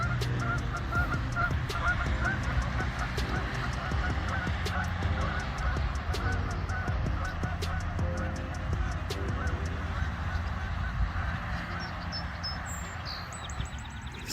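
Geese honk repeatedly outside a library in Miami Township, steady moderate-volume honking calls over continuous outdoor background noise.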